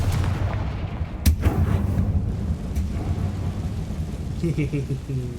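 A Confringo fire spell explodes in the video game Hogwarts Legacy: one sharp, loud blast over a dense rumbling battle backdrop, followed by more low crashing and a few faint tonal effects near the end.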